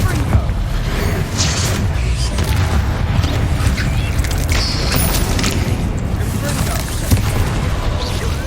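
Confringo blasting spells explode in the video game Hogwarts Legacy, a dense run of loud booms and crashes over a continuous low rumble, with voices speaking over it.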